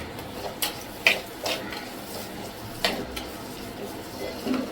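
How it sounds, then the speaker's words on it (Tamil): Sliced large onions frying in a pan, a soft continuous sizzle broken by a few sharp clinks and scrapes of a spoon against the metal, close and fairly quiet. "பெரிய வெங்காயம் போட்டுக்கலாம்."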